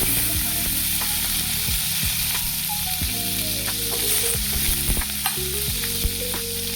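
Garlic sizzles hard in hot oil for a tadka for a fenugreek and potato dry vegetable dish, a steady loud crackle with repeated scraping and stirring strokes of a spoon in the pan throughout, no voices.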